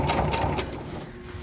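A sewing machine slowly stitches a pillowcase over a thick lump of fabric, a brief close run of mechanical clicking and ratcheting that fades out quickly.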